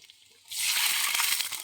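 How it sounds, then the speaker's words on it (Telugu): Water mixed with sugar, salt and lemon juice is poured into a hot pan of lightly fried green chillies, a sudden loud rushing hiss after a quiet moment that continues to the end. "చక్కెర, ఉప్పు కలిపెట్టుకున్న నీళ్ళు, నిమ్మకాయ రసం కలిపెట్టుకున్న నీళ్ళు ఇంట్లో పోసేసిన"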